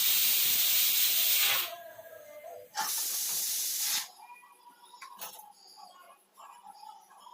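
Steam from a pressure cooker cooking rice in a home kitchen, two loud sustained hissing bursts, each cutting off abruptly, followed by quieter clinks and faint ticking.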